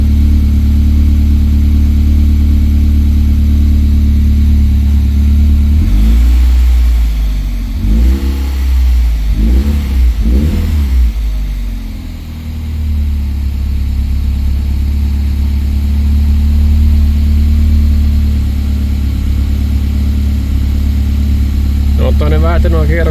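Alfa Romeo JTS twin-cam engine with adjusted camshaft timing, also fitted to the Fiat Punto. A loud, close idle rises into several quick blips, then drops back to a steady rough idle near 800 rpm.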